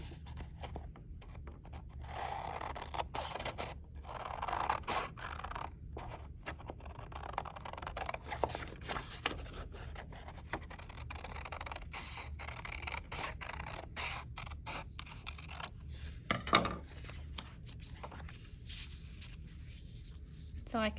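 Scissors snip through paper to cut out a pencil shape for a collage, soft crisp cuts and paper rustling scattered throughout at close range under a background hum, with a voice talking over parts of it.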